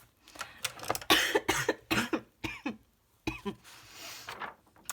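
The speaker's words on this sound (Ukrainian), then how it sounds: "У мене повернувся кашель." A string of harsh, broken coughs in quick bursts, close and fairly loud, with brief pauses between fits.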